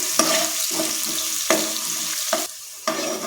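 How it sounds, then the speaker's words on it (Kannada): Chopped onion sizzles in a hot pan with cashews, stirred in repeated scraping strokes that come through clearly over a steady frying hiss, with no talking. "1 ಈರುಳ್ಳಿ ಹೆಚ್ಕೊಂಡಿದ್ದೀನಿ, ಅದನ್ನು ಸೇರಿಸ್ಕೊತೀನಿ"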